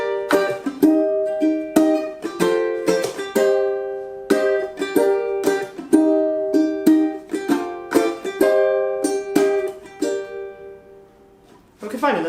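A ukulele strums a chord progression variation in crisp, evenly spaced strokes, each chord ringing briefly before the next, close and clear with no voice, ending in a short pause and a final strum.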